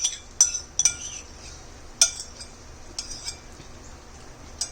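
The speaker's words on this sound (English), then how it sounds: "we are going to add the whisked yogurt, which is about a cup of the yogurt" Whisked yogurt, about a cup, is added to a vegetable pan over a lowered flame, with sharp metallic clinks of a utensil against the pan scattered among quiet scraping and stirring.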